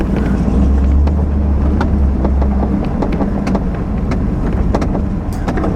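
A K30 truck engine idles at a steady, even rumble, close and loud, with a heavier low drone in the first few seconds.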